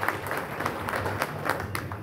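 An audience at a political speech in Maharashtra claps in a scattered, moderate burst of applause, heard at some distance with a murmur of crowd noise underneath.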